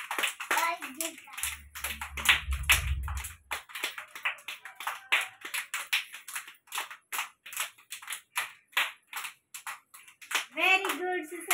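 Small children at an anganwadi clap their hands in a loose, irregular rhythm of sharp individual claps, mixed with kids' voices and an adult speaking, with a low rumble briefly underneath.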